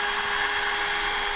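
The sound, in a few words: drill drilling a gourd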